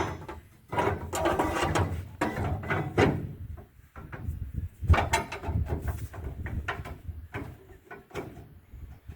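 A steel trailer hitch extension being pushed into the receiver of a 2012 Ford F350 truck, with repeated close metallic scrapes, knocks and sliding clunks in uneven bursts.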